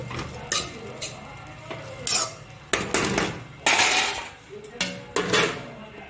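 A metal lid set down on a cooking pan on a gas stove, with clattering pot and utensil knocks in several bursts over a faint sizzle.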